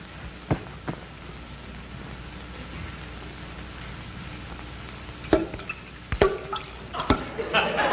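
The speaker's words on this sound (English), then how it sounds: "Darn faucet dripping again." A leaky faucet drips in a quiet room in a 1950s radio comedy, sounding as a few sharp, separate plinks against soft hiss, sparse at first and then clustering faster toward the end.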